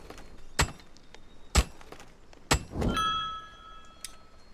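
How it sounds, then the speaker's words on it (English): Hammering during carpentry in the video game Aska: three sharp, evenly spaced impacts ring out about a second apart, followed by a fainter tonal ring and a lighter knock. "And then we beat it to death with a hammer."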